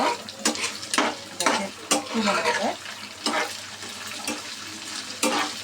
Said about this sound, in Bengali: এখন আমি আবার ঢাকনাটা উঠিয়ে একটু নেড়ে চেড়ে দিব